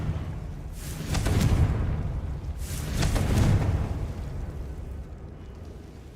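Confringo, an explosive fire spell cast in the video game Hogwarts Legacy, inside a tomb, goes off as two rumbling blasts about two seconds apart, each with a rushing, crackling tail, over a low ambient hum, with no voices.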